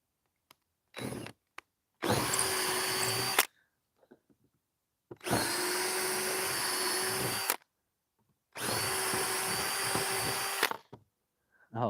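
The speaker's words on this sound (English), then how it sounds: "I'm drilling 15, 20 holes at a time." A power drill with an 11/64 bit bores holes in a boat in three long whining bursts of a couple of seconds each, close and loud, separated by short pauses and a few brief clicks.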